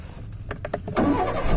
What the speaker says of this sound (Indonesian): berhubung mobil ini menggunakan tombol ya, jadi kita menggunakan tombol untuk starternya